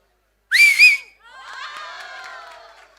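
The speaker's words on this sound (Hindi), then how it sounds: "सीटी बजाएंगे आप? हाँ सीटी बजाइए" A person at a banquet during a sixtieth-birthday (Shashti Poorti) celebration blows a loud, sharp whistle with warbling pitch, followed by a softer, sustained crowd of mingled whistles and cheers from the guests.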